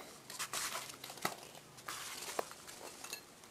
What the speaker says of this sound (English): I'll lift ours out because I have to unzip the bag.